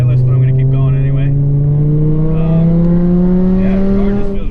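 A Stage 1 tuned Volkswagen 2.5 engine pulls hard, its exhaust note rising smoothly and steadily in pitch throughout. The loud drone comes from inside the cabin, with a voice speaking intermittently over it.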